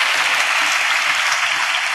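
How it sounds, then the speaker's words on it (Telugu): A church congregation claps in a steady, dense wash of applause that holds at an even loudness throughout, with no talking. "చప్పట్లు కొడుతూ స్తోత్రాలు చెప్తాం"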